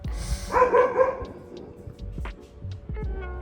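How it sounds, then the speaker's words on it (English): A single dog bark or yelp indoors, fairly close, over a quiet room with small background noises. "sorry, that was Ringo, my dog."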